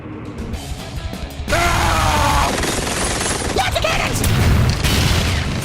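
Cannon fire in a Mario video game: a sudden loud blast starts a thick, sustained wash of booming shots and crackling impacts, with voices yelling over the barrage.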